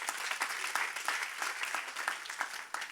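A church congregation applauds the Lord with dense, steady clapping from many hands, moderately loud and continuous throughout.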